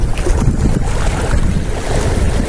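Loud, steady wind roaring and buffeting at a shore-casting fishing spot in Real, Quezon, with a rumbling, gusty wash like open water, continuous throughout.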